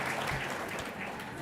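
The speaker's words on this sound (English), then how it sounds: "It's like golf clap." Quiet, polite golf-clap applause from an audience at an audiobook awards ceremony, soft and steady over a brief moment.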